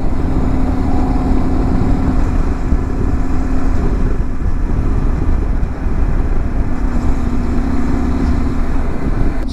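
A Honda Varadero 125 motorcycle engine runs steadily while riding through Alsace toward Lac Blanc, a loud, continuous drone with wind rush and no pauses.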